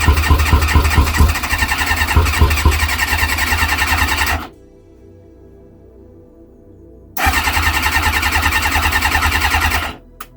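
A Kawasaki ZX-6R sport bike, unstarted for years, cranks and fires on choke into a loud, close, lumpy idle, cuts out for a few seconds of near silence, then catches and runs again before stopping abruptly.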